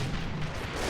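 A deep, booming blast with a rumbling tail from a King Tiger tank cannon firing in a World War II video game, dense and loud through the whole short moment.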